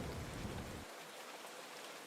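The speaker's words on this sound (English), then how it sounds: "Isn't that nice, the rain?" Steady, dense rainfall hisses throughout in the Nancy Drew game Trail of the Twister, with a low rumble of thunder at the start that drops away after under a second, leaving an even wash of rain.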